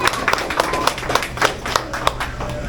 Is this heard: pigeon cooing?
no